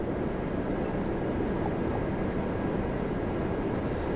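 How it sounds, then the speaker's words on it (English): An Air France A350-900 heavy jet landing at Toronto Pearson, a steady broadband engine roar that holds at an even level throughout, with no voices. "Heavy's coming in. Air France A350-900 from Charles de Gaulle."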